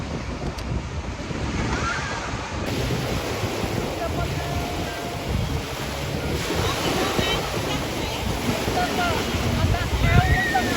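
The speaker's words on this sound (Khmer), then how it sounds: "អូនេះទឹកលោនេះខ្លាំងហី" Strong ocean waves surge and break at Pak Khlong beach, a continuous, loud roar of surf with wind buffeting the microphone throughout and a slight swell near the end.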